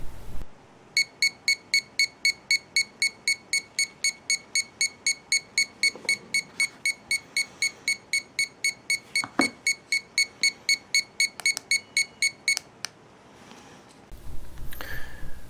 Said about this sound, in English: you can adjust alarm and the device will beep